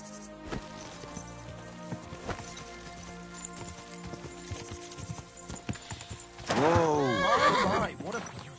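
In the game Kingdom Come: Deliverance II, hooves clop steadily at a walk, then a horse lets out a loud, quavering whinny near the end, with faint background ambience.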